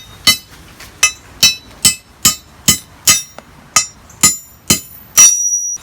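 New wheel studs are hammered into a Jeep hub with about a dozen sharp, ringing metallic strikes at a brisk, even pace, ending in a brief scraping clatter.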